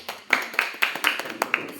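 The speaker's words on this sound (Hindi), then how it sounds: "जोरदार तालियां छात्र के लिए" Audience applause for a student at a program at Guru Nanak Vidyak Sabha Kanya Inter College: a moderate run of claps at a steady rhythm, a few sharp hits standing out, with no voices over it.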